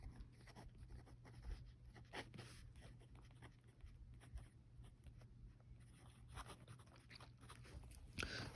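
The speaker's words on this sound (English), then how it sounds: "Let me write that down." Pen or pencil scratching across paper in short strokes, quiet and close, over a low steady background hum.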